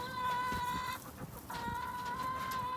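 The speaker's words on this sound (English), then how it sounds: "One of the things about these chickens is that they do talk a lot." Chickens cluck and chatter close by, a busy, continuous run of rhythmic clucks with a brief dip before resuming, with no talk over them.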